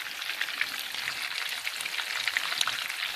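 Breaded shrimp sizzle and crackle steadily in hot frying oil, a dense close hiss with scattered pops and no talking.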